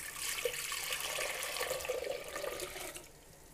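Pear juice pours steadily into a pot, giving a continuous splashing trickle of liquid, close and moderately loud, heard alone without talk.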